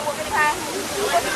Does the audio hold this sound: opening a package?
no